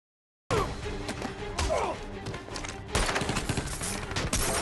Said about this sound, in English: As Espin is escorting Prudhomme out, they are ambushed by assassins. Prudhomme is shot and killed, and Reacher jumps in to fight and kill the